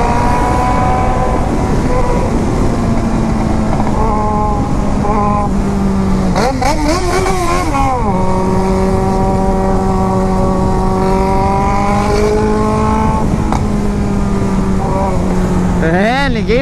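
A Mercedes car passes in traffic, heard from a motorcycle rider's point of view, its steady engine and road noise mixed with the bike's own drone, tonal engine whine that rises and falls, and someone talking over it throughout.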